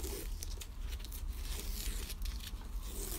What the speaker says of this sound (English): So pulling off all the tape